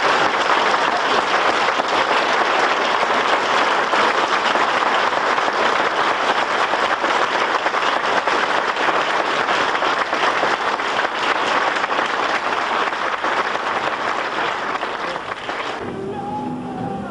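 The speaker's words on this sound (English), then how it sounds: "Please, another round of applause for Ray" Convention audience applauding Ray Harryhausen, a dense, steady wall of clapping that holds loud for about fifteen seconds before thinning out at the end.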